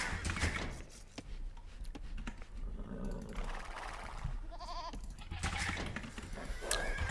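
Sheep bleat in the Age of Empires strategy game, several short bleats rising over a dense bed of game sounds and effects.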